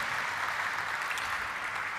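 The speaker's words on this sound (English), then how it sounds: "I think it's a huge round of applause to everybody on that" Applause at a stock listing ceremony for a vehicle dealership company, celebrating a million vehicles sold: an even, continuous wash of distant clapping from a large room, moderately quiet and unbroken.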